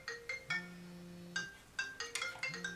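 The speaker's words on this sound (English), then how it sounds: "I'm getting a phone call." Phone ringtone chiming with an incoming call, a bright repeating melodic pattern of short tonal notes with brief pauses, fairly close and clear, no voices over it.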